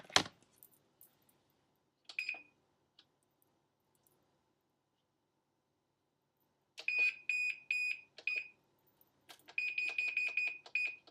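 A kitchen timer chirps as it is set, giving scattered single beeps and then quick repeated runs of high electronic tones, close and fairly loud in a quiet kitchen.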